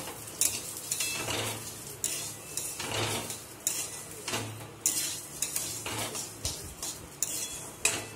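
Lentils frying in a pan for khichuri, with a steady close sizzle broken by repeated stirring scrapes and clinks of a utensil against the pan.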